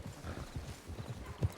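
Horse hooves clip-clop in a horse-riding video game, a quick, uneven run of soft thuds at moderate level, with a brief louder knock near the end.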